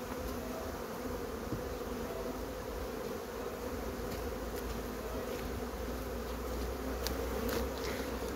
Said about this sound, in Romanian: vedeți acolo pe diafragma mai e ceva albine, se va retrage